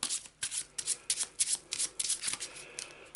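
A deck of Eldritch Horror cards being shuffled close up, with a quick run of crisp riffling bursts in a steady rhythm.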